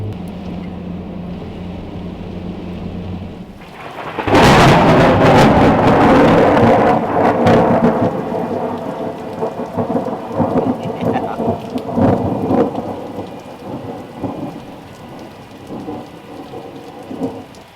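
Heavy rain and a loud thunderclap during a thunderstorm: steady rain hiss at the start, then a sudden close crack and long rumbling roll of thunder that slowly fades back into the pouring rain.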